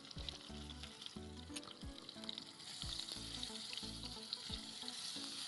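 Curry leaves and asafoetida sizzling in hot oil for matki dal, a faint, steady crackle and fry with rhythmic stirring scrapes and no talk.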